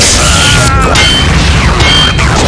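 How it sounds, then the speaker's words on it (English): An explosion in the video game System Shock 2, a loud, dense blast with crackling debris and rumbling low end, continuous over a couple of seconds with brief mechanical and alarm-like tones mixed in. "The explosion was so much."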